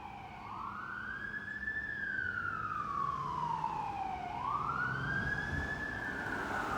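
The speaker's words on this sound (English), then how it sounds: "Could be fire truck, could be ambulance," An ambulance siren wails steadily as it passes, its pitch sliding up and down in long sweeps, loud and close with traffic rumble underneath and no talking.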